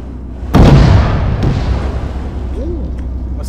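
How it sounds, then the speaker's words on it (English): Secondary explosion after a 120mm cannon hit on a target in the video game Arma 3: one sudden loud boom that rolls into a long fading rumble, with a faint bird-like chirp near the end. "A secondary explosion."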